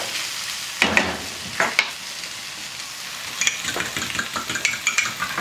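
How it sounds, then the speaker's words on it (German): A fork scrapes and clinks against a pan while stirring beaten eggs for a farmer's breakfast, sharp metallic taps and bursts over a soft frying sizzle, growing into quick repeated strokes. "eine Gabel und tu das Ganze schon mal schön, nicht Schaum schlagen, aber halt so verrühren, dass halt Eigelb und Eiweiß gemischt sind"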